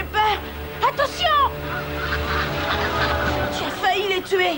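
Cartoon ducks give a burst of loud, repeated honking quacks, several calls overlapping near the start and again toward the end, over a steady low rumble.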